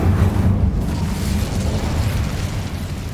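A fire spell from the Hogwarts Legacy video game bursts into a loud, dense whoosh and roar that holds steady and fills the short moment, no voices.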